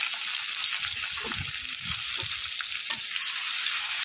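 Hot oil sizzles steadily in a wok (kadai), a dense continuous hiss with a few soft pops and stirring scrapes, close and loud with no talking.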